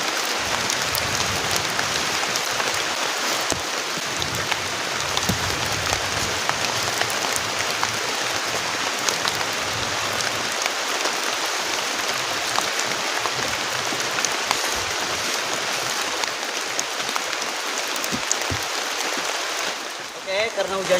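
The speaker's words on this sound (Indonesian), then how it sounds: "karena hujannya deras banget" Heavy rain pours steadily at a campsite, a dense unbroken hiss of downpour lasting throughout, loud and close as if drumming on a tent and surrounding ground.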